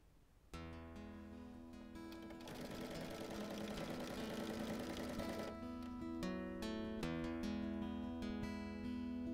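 A sewing machine stitches down quilt binding in a long, steady, continuous mechanical whir that builds slightly in intensity partway through, close and alone without any voices.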